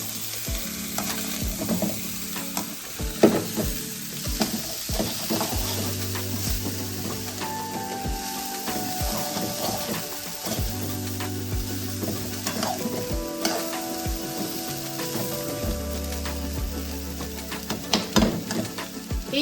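Julienned ginger and other ingredients fry in oil for a sticky-rice fried rice, giving a loud, continuous sizzle under steady stirring and scraping that lasts the whole time, with no talk.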